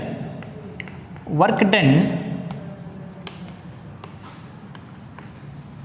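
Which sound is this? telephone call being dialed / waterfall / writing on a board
writing on a board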